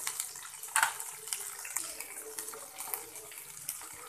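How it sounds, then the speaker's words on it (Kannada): Cumin seeds hit hot oil with garlic paste in a pan, giving a steady, close, hissing sizzle with scattered crackles and pops. "ಈಗ ಇದಕ್ಕೆ ಜೀರಿಗೆನ ಹಾಕ್ತಾ ಇದ್ದೀನಿ"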